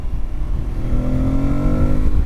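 A 2025 Aprilia Tuareg 660 motorcycle with a 660cc engine revs hard while riding, its pitch climbing steadily over a rough rumble, loud and close with no talk.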